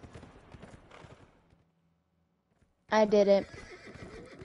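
A horse whinnies loudly up close after a short pause, with clip-clopping hooves around it and a voice speaking briefly in a game-like setting.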